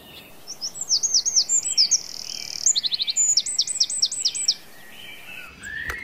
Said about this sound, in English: Golly gosh, that morning chorus is really loud.